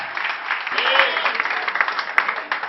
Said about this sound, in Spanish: Denle fuerte el aplauso al Rey.